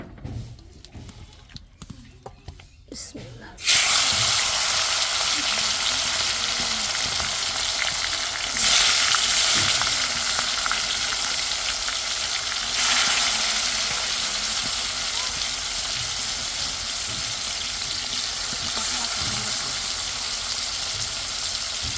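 Meat fries in a pan and breaks into a loud, close, hissing sizzle after a few quiet seconds of handling. The sizzle holds steady with occasional stirring and surges throughout.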